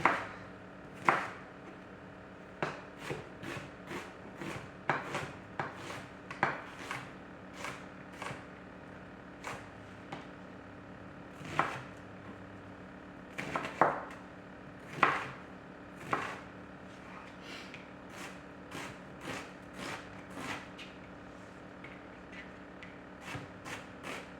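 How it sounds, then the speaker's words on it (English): A knife chopping an onion on a cutting board, a long run of sharp, close, irregular taps and strikes with brief pauses between them, no talking. "Now this onion I'm just going to chop."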